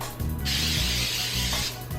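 A steady hiss of spray from a can, lasting about a second, with a low mechanical hum underneath.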